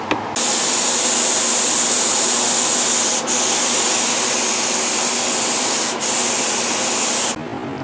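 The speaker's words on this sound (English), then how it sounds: "We're now ready for spraying the gel coat." Spray gun applying color-matched gel coat to a Tollycraft 26 boat swim grid, a loud close hiss that runs steadily in long bursts with brief breaks, with no talking.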